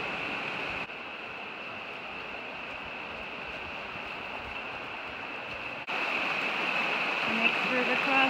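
A river flowing at a crossing point on a historical hiking track in New Zealand gives a steady, broadband rush of water, continuous and close throughout, growing slightly louder near the end.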